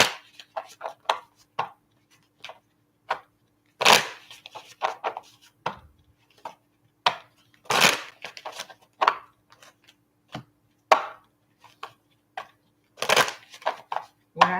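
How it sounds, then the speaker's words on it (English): A deck of tarot or oracle cards being shuffled during a live reading, giving scattered soft riffling and slapping bursts of card noise with quiet gaps between them and no speech over them. "I want to make sure they shuffled up good."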